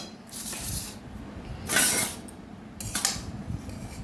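Chow mein is dished onto four plates at home, with several clear clinks and scrapes of cutlery against plates, moderately loud, separated by short pauses over faint background noise.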